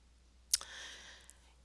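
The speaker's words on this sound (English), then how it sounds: "I'm going to click Next." A single crisp computer mouse click on a Next button, brief and close, followed by a faint settling tone in a quiet room.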